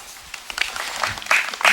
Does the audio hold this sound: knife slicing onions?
no